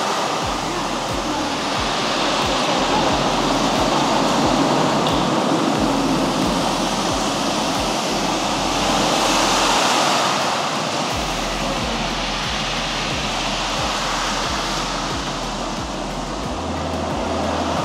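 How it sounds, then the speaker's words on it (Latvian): Sea waves in a virtual seaside experience in Dubai: a steady, enveloping wash of surf that swells and eases slowly, with a low rhythmic pulse beneath and no voices. "Te mums ir jūra."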